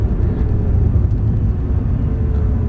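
A V6 supercar on a test track, its engine a steady near drone with a faint high whistle riding above a heavy low rumble throughout.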